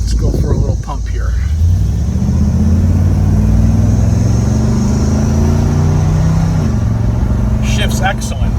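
A 1972 Chevrolet Monte Carlo with a 402 engine rumbles loudly and climbs steadily in pitch as it accelerates, then drops briefly at a shift before pulling again, a deep close engine note with a voice heard over it.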